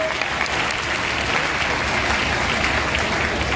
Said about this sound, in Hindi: प्लीज जोरदार तालियां के लिए